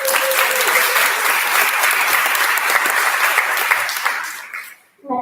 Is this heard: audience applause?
yes